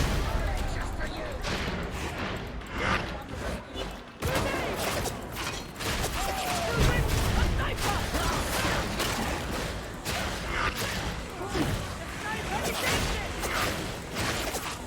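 Dense gunfire from a gunner enemy in Warhammer 40,000: Darktide, sustained bursts of rapid shots and crashing impacts throughout, loud and continuous amid other combat noise.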